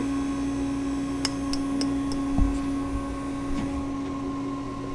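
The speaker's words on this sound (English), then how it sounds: "right now the refrigeration to the machine is off and the dasher is just spinning, pushing out the product" A gelato machine's dasher spins with the refrigeration off, giving a steady mechanical hum with a few light ticks and knocks at close range.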